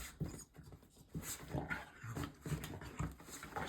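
A dog whimpers and pants in soft, repeated breathy whines from close by, a rhythmic series of small cries with no talking.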